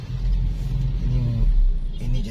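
Engines rumble steadily in congested street traffic beside a roadside market, with a bentor motorized rickshaw among the vehicles, under a person talking.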